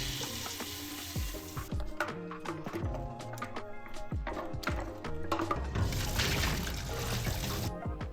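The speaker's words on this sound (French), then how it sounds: "on commence bien évidemment par un petit rinçage à l'eau chaude" Hot water splashing and gurgling as a homebrewing beer keg bucket is rinsed, a continuous rushing, sizzling wash with shifting clunks and sloshes, close and steady.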